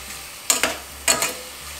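Aged kimchi with its stem ends and pork being stir-fried for kimchi stew, a soft background sizzle broken by two pairs of sharp scraping stirs.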